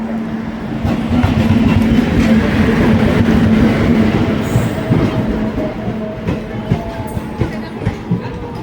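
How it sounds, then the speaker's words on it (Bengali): A train slowly pulls into a station platform, its heavy, close rumble and rhythmic wheel clatter gradually thinning as it slows, with faint brake squeals rising near the end. "এই দেখো যে ট্রেনটা আসছে আস্তে আস্তে, এখন ট্রেনটা ঢুকে দাঁড়াবে"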